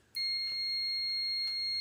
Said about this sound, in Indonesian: Kita jangka simpan di ohmmeter yang berbunyi beep